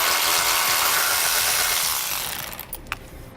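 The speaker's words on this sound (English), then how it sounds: "We're going to use a 15mm socket to do that." A power tool fitted with a 15mm socket whirs steadily as it removes bolts on a 2018 Jeep Cherokee, then winds down and ends with a few sharp clicks.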